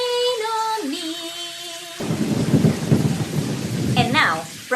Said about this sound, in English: Why does it always rain on me?